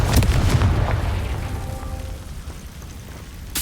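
In Hogwarts Legacy, the Confringo blasting spell detonates in a loud, close boom that rolls off into a decaying rumble, with a sharp crack at the very end.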